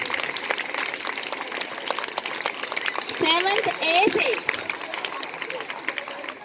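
Schoolchildren clap for a classmate at a school Maths Day celebration, a steady wash of many hands throughout, with a teacher speaking over it and children's voices rising in the middle.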